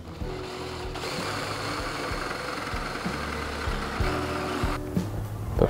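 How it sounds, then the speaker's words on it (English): A Forstner bit bores a hole in wood for a wine bottle holder, a steady motor whir with low rumbling vibration that drops out briefly and resumes, close and uninterrupted by talk. "The Forstner bit."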